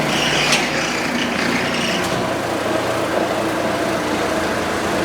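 A floor buffer runs steadily over a wood floor, its broad continuous mechanical drone filling the space loud and unbroken, with no voices heard.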